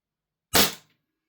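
Single sharp gas-blowback shot from a Cybergun CANiK SFX Rival airsoft pistol on propane, firing a 0.25 g BB through a chronograph; one loud crack that decays quickly into silence.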